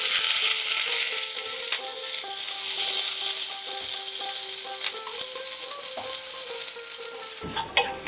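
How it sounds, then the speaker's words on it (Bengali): A finely sliced medium onion and two dried red chillies fry in oil in a pan, giving a loud, continuous sizzle with occasional stirring scrapes, ending in a brief clatter of utensil against the pan. "পেঁয়াজটা আমার ভাজা হয়ে গেছে"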